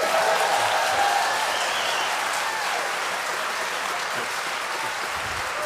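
Audience at a speaking event giving an author loud, sustained applause, a thick, continuous roar of clapping that holds steady and full throughout without anyone talking.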